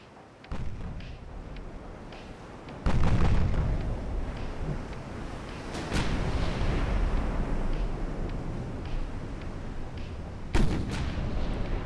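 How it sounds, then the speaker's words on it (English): Naval artillery fire from battleships' main batteries in the naval battle game Ultimate Admiral: Dreadnoughts: several heavy booming salvos spread over about twelve seconds, each a loud thump followed by a long rumbling tail. "Both battleships will engage the heavy cruiser. All batteries."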